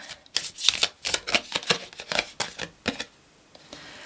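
Tarot cards shuffled by hand in quick, close riffling bursts, a rapid uneven rhythm of papery flicks that stops near the end.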